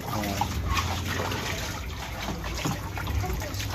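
Water pours steadily into an old unused freezer serving as a makeshift pool on a hot day, a continuous close rushing splash with faint voices in the background.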